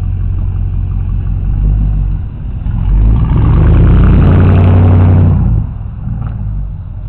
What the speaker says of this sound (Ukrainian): розвертається машинка, гуде